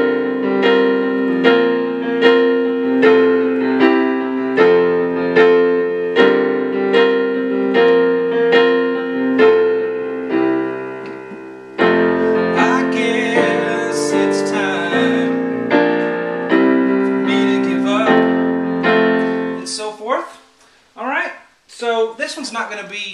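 Piano chords from a song, struck in a steady repeating rhythm at a close, full level, with a brief change of voicing partway and the notes thinning into scattered higher tones at the end.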